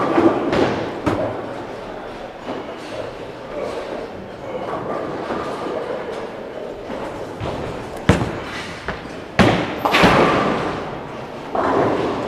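At a bowling alley on league night, a bowling ball rolls with a low rumbling drone and lands with heavy thuds while shooting a spare, set against loud, echoing lane noise with sharp impacts.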